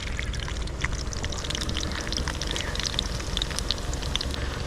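Food sizzling loudly in an uncovered frying pan outdoors, a steady dense crackle and hiss with scattered sharp pops, continuous and close throughout.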